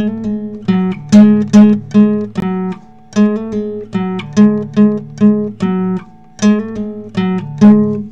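Electric or acoustic guitar playing a short repeating lick with hammer-ons from a song, clear plucked notes over low bass tones in steady phrases, played alone and close.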